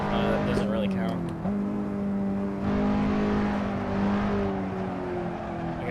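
A car engine accelerating on a race track during a track day, with steady, strong engine tones that shift in pitch as it pulls, continuous from start to end.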